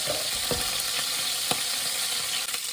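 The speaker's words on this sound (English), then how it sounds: "Just going to finish them sausages off, get them a bit browner." Sausages sizzle steadily in a frying pan as they brown, a constant close hiss broken by a few sharp clicks and pops, with no talking.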